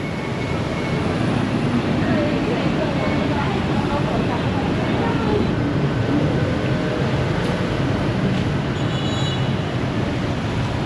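An Intercity train passing through a Bangkok station, heard as a steady, loud broadband rumble of rolling stock that holds for about ten seconds with little change, while people talk over it.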